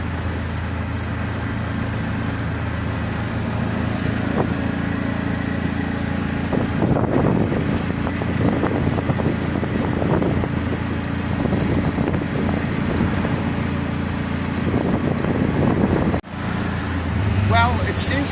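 Road traffic flows steadily on the way out of Phnom Penh. A continuous hum of car and motorbike engines runs throughout, with occasional passing swells and faint voices mixed in.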